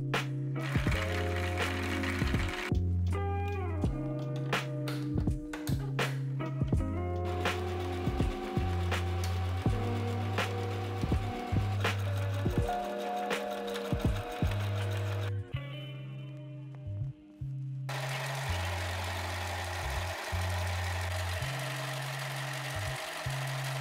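A sewing machine runs in steady stitching bursts while the three panels of a wrap skirt are joined right sides together. The motor hums in a regular rhythm, with short pauses between runs and a brief break near the end.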